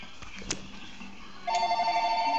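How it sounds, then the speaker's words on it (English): Telephone starts ringing partway through, a bright electronic warble that is close and clear and continues to the end, following a few faint knocks. "Phone's ringing."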